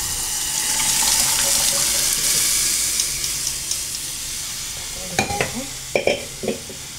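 Dal in a pot being stirred by hand: a steady watery hiss and sizzle, then a few distinct spoon clinks and scrapes against the pot toward the end, close by, with no talking.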